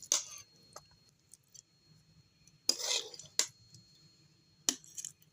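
A spoon scrapes and clinks against a wok while cooked achari baigan, an eggplant dish, is moved onto a plate, giving a few sharp metallic taps with soft squishy scoops between them in a quiet kitchen.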